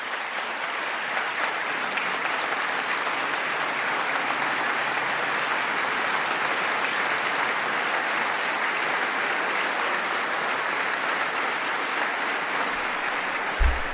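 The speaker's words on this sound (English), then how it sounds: "That was a long applause line, and the Democrats stood and applauded." A large audience in parliament applauds King Charles. The clapping is loud and dense, with no let-up for about fourteen seconds, and ends with a brief low thump.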